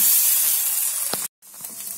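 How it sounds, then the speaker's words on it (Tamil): Chopped pirandai (adamant creeper) fries in hot oil with a steady, close, loud sizzle and hiss that runs unbroken, breaks off briefly near the end and then resumes. "நம்ம அதை கொட்டிக்கலாம். நல்லா வதங்கிடணும் எண்ணெயில்"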